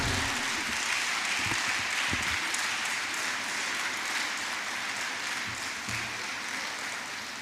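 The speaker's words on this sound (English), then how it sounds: "Please, a round of applause as we welcome the Honorable Justice Binta Nyako." Sustained audience applause at a women's forum of a bar association conference, greeting a judge as she is welcomed; a broad, even wash of many hands clapping throughout, fading slightly near the end.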